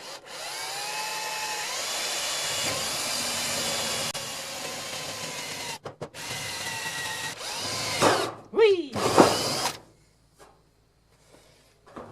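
A drill fitted with a countersink bit cutting indentations in scrap material for a homemade 88-key keyboard, two long whirring runs followed by a few short high-revving bursts that spin up and down, then quiet.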